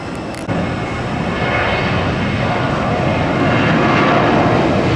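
A jet airliner roars steadily overhead at an airport, a loud broadband engine rumble that swells slightly as it passes close by.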